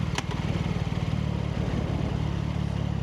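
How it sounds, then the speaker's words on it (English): A 2026 CFMOTO 675NK motorcycle exhaust rumbles steadily and loudly with a throbbing, pulsing idle, close by and with no voices. "The sound of that exhaust is actually awesome."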